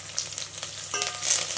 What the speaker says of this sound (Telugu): మిర్చి చిమ్ముతుంది